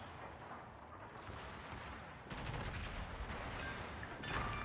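Heavy naval gunfire from a battleship in the World of Warships game, a dense rumbling barrage that swells into louder blasts partway through and continues with no talking.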